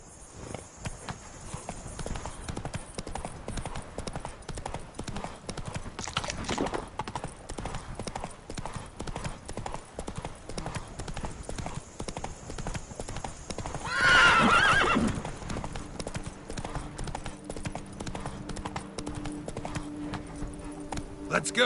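Horse Roach galloping in the video game The Witcher 3, a continuous rapid patter of hoofbeats with a brief louder whinny or burst partway through.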